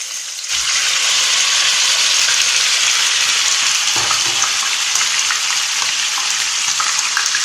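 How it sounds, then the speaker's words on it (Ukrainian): Pork drops into hot oil in a sauté pan with a sudden loud sizzle that keeps crackling steadily, bright and close, with a brief stir partway through. "Олія закипіла, і ми сюди відправляємо м'ясо."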